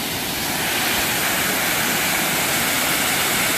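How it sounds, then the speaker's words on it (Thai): Continuous broadband roar of a waterfall at the Khlong Nam Lai falls, heard from close by on a viewing tier, steady and loud throughout with no voices. "เป็นน้ำตกที่ก็สวยในระดับหนึ่งนะครับ"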